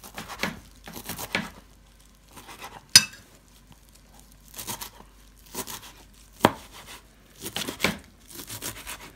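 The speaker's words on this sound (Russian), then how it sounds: "Теперь берем укропчик и петрушку и режем маленькими дольками." A knife chopping fresh dill and parsley on a board in quick bursts of rapid taps, separated by short pauses, with a couple of sharper knocks; close and no talking.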